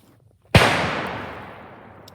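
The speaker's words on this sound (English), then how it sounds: "Yeah, that's called target practicing, target shooting." One sharp, fairly loud gunshot from hunters target shooting cracks out after a quiet moment, then rolls away in a long, fading echo across open country.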